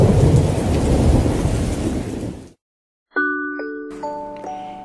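A thunderstorm used as a story sound effect: heavy rain roars steadily with a thunder rumble, then cuts out to silence, followed by a short chiming bell-like tune.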